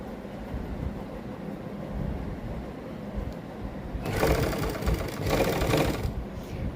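A sewing machine runs in a loud, steady burst of stitching, attaching lace along the hip seam of a kameez slit after several seconds of quieter hum.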